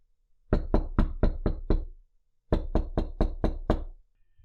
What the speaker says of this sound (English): another knock redirected our attention to the door